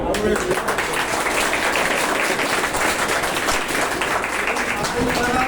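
Classroom applause at a school class party, a burst of clapping from children and staff that holds steady and loud for several seconds, with voices mixed in.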